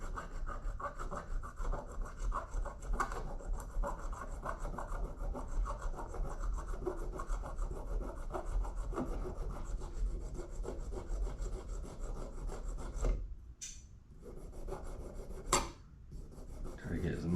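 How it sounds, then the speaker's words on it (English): Scraping oxidation off copper on a vintage Sterno camp stove, a continuous gritty rubbing and rasping close by, broken by a short pause and a few knocks near the end. "Get as much of that oxidization off of there."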